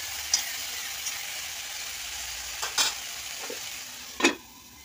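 Salted, turmeric-coated potatoes and pointed gourd stir-frying in a new iron wok, a steady soft sizzle broken by a few sharp scrapes and clinks of a spatula, close up with no talking.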